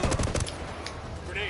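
Bursts of enemy automatic gunfire in Ghost Recon Wildlands, rapid cracking shots at the start that thin out into sparser distant pops, with a voice briefly audible.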